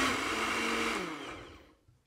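A kitchen blender grinds a boemboe spice paste for Indonesian fried chicken, a loud steady whirring roar that holds for over a second, then winds down and fades to near silence.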